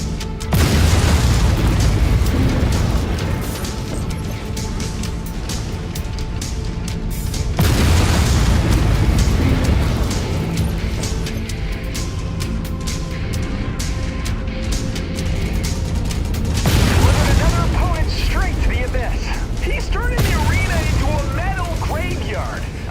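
Heavy booming missile explosions and gunfire in MechWarrior 5 combat, several loud blasts rolling one after another over sustained mechanical rumble, with voices talking over the battle.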